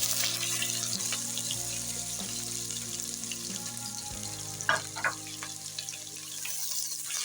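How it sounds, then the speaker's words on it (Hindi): Okra frying in a pan for a hotel-style bhindi masala, a steady close sizzle running throughout with a few brief clinks and splashy accents near the middle, no talking. "अब इसको हल्का सा फ्राई करेंगे"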